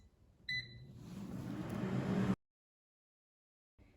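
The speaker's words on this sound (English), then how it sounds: "now the air fryer is done cooking" Air fryer cooking frozen Trader Joe's falafel, a steady electric whir and fan hum that starts with a short beep pattern, runs for about two seconds, then cuts off into silence.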